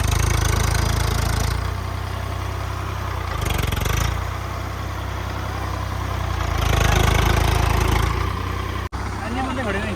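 Swaraj 855 and Mahindra 585 tractors strain in a pulling contest, diesel engines droning loud and steady with surges in effort, under a crowd of voices talking throughout.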